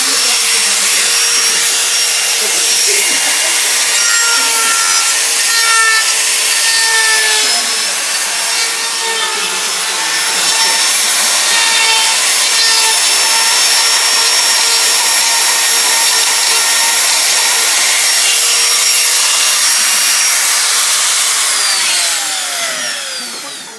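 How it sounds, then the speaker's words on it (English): A Bosch die grinder running continuously at high speed during an epoxy repair job, a loud, sustained whining grind with slight pitch shifts as it bites into the material, lasting over twenty seconds. "This is a Bosch. This is a die grinder."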